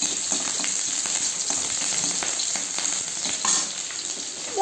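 Bathua greens fry in a pan with a loud, steady sizzle and crackle, close up, with faint stirring knocks scattered through it.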